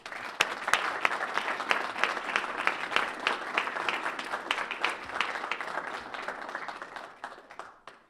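An audience applauds to welcome author Lawrence Wright at a book talk in Atlanta, with sustained, even clapping from a crowd that tapers off near the end.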